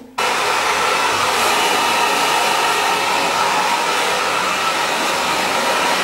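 A hair dryer blows hair dry, switching on abruptly and then holding a loud, constant rushing whoosh close by, with no talking.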